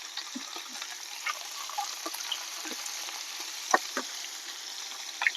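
Curry leaves crackle and sizzle in hot oil in a home kitchen, a steady frying hiss with scattered small pops throughout and no talk.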